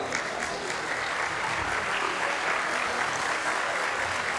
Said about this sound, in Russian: ваши аплодисменты бойцам.